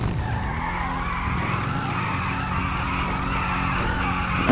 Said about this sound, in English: I'm gonna do a burnout.